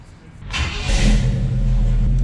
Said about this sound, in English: Let's start it up and see if that fixes it.